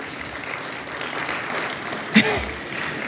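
A church congregation clapping during a service, a moderate, fairly quiet patter of hands with one louder sharp clap near the end.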